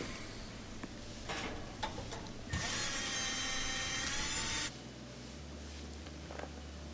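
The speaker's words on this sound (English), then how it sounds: "I'll use 1/4 inch driver to spin off these little machine screws that are holding on the old igniter" A 1/4 inch driver spins off small machine screws from an oven igniter. There are a few clicks and taps, then a short, close whirring burst of a few seconds, with a low hum in the background.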